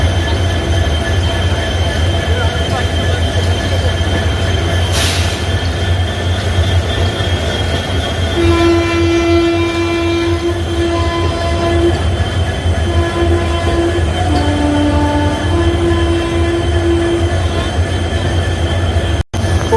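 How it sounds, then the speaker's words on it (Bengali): The Howrah–Rampurhat Sahid Express pulls out of platform 2 at Bardhaman station with brand-new coaches, a loud continuous rumble of wheels on rails with long sustained wheel squeals and a brief sharp clank. "হাওড়া রামপুরহাট শহীদ এক্সপ্রেস বর্ধমান স্টেশনের 2 নম্বর প্ল্যাটফর্ম থেকে বেরিয়ে যাচ্ছে।"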